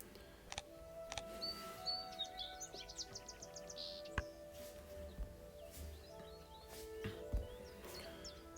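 Song Sparrow call from the Wingspan board game, a quick series of bright chirps and a trill heard faintly over a low background hum, with a few scattered ticks and clicks.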